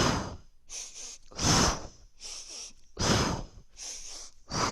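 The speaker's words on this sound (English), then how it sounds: "Sniff, sniff, blow." Sharp nasal sniffs and forceful blown exhales during a Pilates class, repeating in a close, steady pattern of two short breaths followed by a longer blow.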